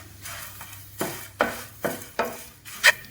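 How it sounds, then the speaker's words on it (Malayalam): Dried red chillies and curry leaves dry-roasting on low flame for a raw mango chammanthi podi, a soft background sizzle broken by five or six regular scraping strokes of a spoon against the pan, close and without talk. "ഇനി ലോ ഫ്ലെയിമിൽ വെച്ച് നമുക്കെല്ലാം ഒന്ന് നന്നായി വറുത്തെടുക്കാം."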